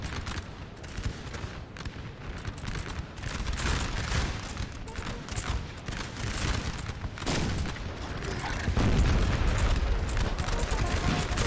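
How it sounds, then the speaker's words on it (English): Napoleonic-era battle in Napoleon Total War: repeated musket volleys and booming artillery fire crackle and thud in dense, uneven bursts, building louder toward the end with no voices over it. "I'm not sure where this artillery is firing for the UK"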